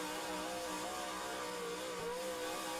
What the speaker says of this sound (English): Just listen to that V8 engine.